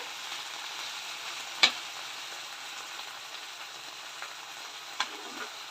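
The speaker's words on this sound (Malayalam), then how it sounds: "ഇനി ചെറുതായിട്ടൊന്ന് നമുക്കിതിനെ ഫ്രൈ ചെയ്തെടുക്കണം" Chicken kondattam mixture frying in a pan gives a steady close sizzle and hiss, broken by a couple of sharp clicks from the utensil or pan. No one speaks.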